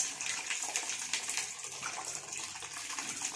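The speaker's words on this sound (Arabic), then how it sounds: "هنفضلوا سايبينها كده تنزل مية لغاية لما المية تبقى نضيفة" Water running steadily through a household water filter cartridge housing during a cartridge change, a continuous close hissing gush like a tap filling a basin, with no talking.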